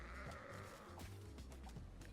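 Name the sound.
goat bleating in a video game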